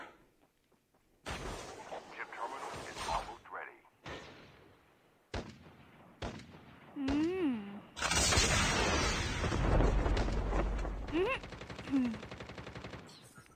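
Call of Duty Mobile gunfire comes in separate loud bursts, then a long sustained barrage of shots and explosions. Rising and falling voices are heard between the shots.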